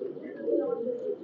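A Golalal (red-throated) male pigeon coos in a low, steady murmur close by on a pigeon farm in Khulna, with faint talk around it.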